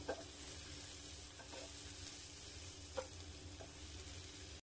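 Food fries in a pan for a home dinner, a faint continuous sizzle with a low hiss and a few soft clinks of stirring, no voices.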